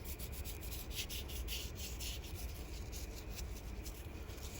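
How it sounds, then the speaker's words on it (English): A Kizer Lieb pocket knife is wiped down with alcohol wipes: quiet, close rubbing in quick repeated strokes with a soft scratchy texture, continuous and without speech. "we're going to clean that up. And these are just some alcohol wipes."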